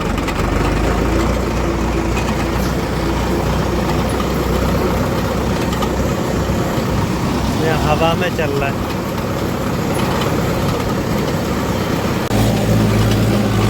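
A farm tractor with a punctured front tyre runs nearby, its engine rumbling steadily and continuously while someone talks over it.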